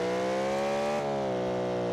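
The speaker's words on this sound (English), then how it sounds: "But this sounds like a normal cross-plane crank engine." Bollide car engine in a racing video game revving hard and steady, a dense harmonic engine whine holding high with a brief dip in pitch midway, loud and alone with no talk.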